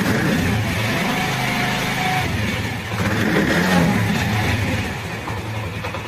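A motorcycle engine runs at around 1000 to 2000 RPM during an RPM meter check, a steady mid-level drone that swells slightly as it revs and then settles, with no speech.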